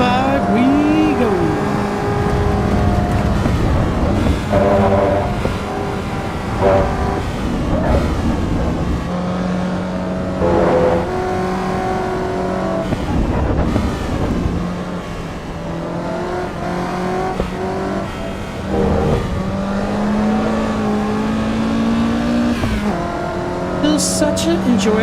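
A Mazda MX-5 engine drives in the Assetto Corsa EVO racing game, revving up and down through gear changes with a steady loud buzz, while someone talks over it throughout.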